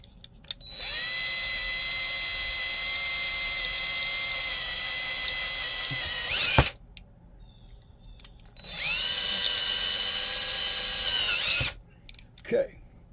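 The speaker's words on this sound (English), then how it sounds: "we just drilled out our rivet holes a little bit bigger" A power drill bores out rivet holes on a single cab Squarebody dually build, in two long steady whining runs of several seconds each. Each run ends in a brief catch and rattle, and the sound is loud and close with short pauses between runs.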